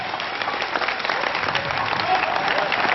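A church congregation at an evangelical service applauds in steady, dense clapping that fills the whole moment, close and lively.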